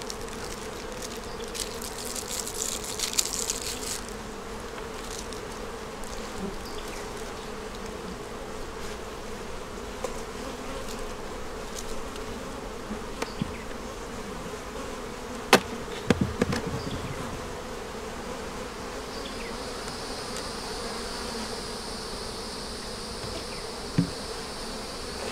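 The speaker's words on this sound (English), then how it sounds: "get these bees off of here" Steady honeybee buzzing at an opened beehive hums throughout, with a few brief clicks and knocks, and a higher whine joining near the end; no voices.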